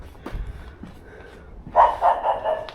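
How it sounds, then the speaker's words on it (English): A dog in a back street of Hoi An, Vietnam, barks in a quick burst of four or five loud, close yaps after a few quieter thumps and shuffles. "Shut up, you stupid dog."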